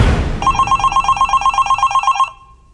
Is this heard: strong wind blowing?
no